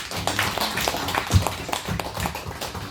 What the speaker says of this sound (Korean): 다시 한번 하나님께 박수요.